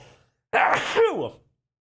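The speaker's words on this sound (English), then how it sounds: "As I also have to sneeze." A single sneeze from a presenter: a sharp burst of breath followed by a falling voiced tail, close and fairly loud, alone between quiet pauses.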